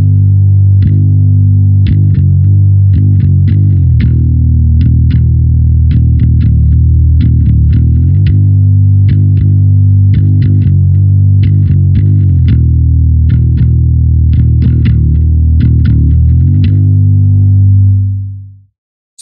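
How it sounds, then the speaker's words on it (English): Heavy, fuzz-distorted bass guitar plays a slow doom metal riff, loud and thick with a droning low end and picked notes that break from the main rhythm, with no other instruments or voices. "the bass will kind of veer off that main rhythmic pattern,"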